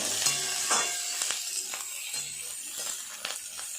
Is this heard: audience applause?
no